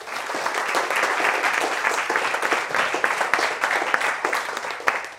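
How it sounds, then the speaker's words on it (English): Sustained, loud applause from a crowd at a workplace recognition event, many hands clapping densely and evenly with no talking over it. "So round of applause to you."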